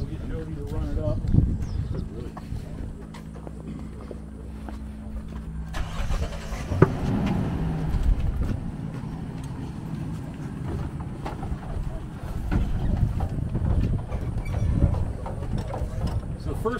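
Stinson aircraft engine starting and running up to about 2000 RPM for a dynamic prop balance, a loud continuous engine drone with rising intensity near the middle, heard outdoors with people talking over it.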